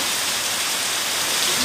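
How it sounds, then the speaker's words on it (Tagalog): Heavy rain pours down in a dense, steady hiss, loud and close for a short stretch, with no voices. "At yung ulan ay napakalakas na oh."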